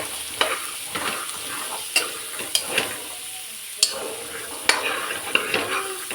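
Chickpeas fry in oil for an evening snack, producing a steady sizzle punctuated by repeated sharp scrapes and taps of a spoon against the pan at an uneven rhythm.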